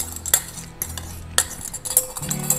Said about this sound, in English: I had two eggs, large eggs, which I like to beat up a little bit